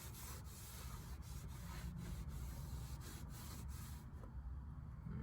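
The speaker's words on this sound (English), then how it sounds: "We're gonna get our towel. We're gonna get some brake fluid on it. I mean brake fluid, brake cleaner. We're gonna wipe this off." A shop towel soaked in brake cleaner wipes down a clutch pressure plate during an NV4500 transmission swap on a 1988–98 Chevy truck, making faint, soft rhythmic rubbing strokes alone at close range.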